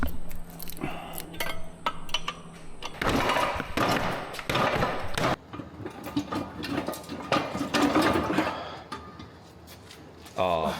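A broken gear set grinding on debris chewed into it after a snapped axle took out the bearing, a rough mechanical ratcheting and clattering that surges and cuts off, loud and close, with bursts of activity throughout.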